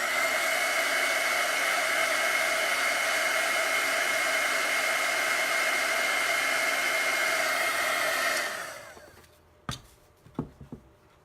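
A hair dryer blasts a steady, loud whoosh for about eight seconds while drying chalk paste on a Chalk Couture craft project. It then cuts off, leaving a few soft taps and clicks.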